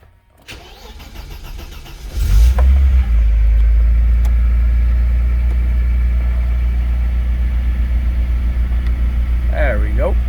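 A cold Opel Lotus Omega engine cranks, catches and settles into a steady, loud idle that rumbles on for several seconds, with brief talk near the end.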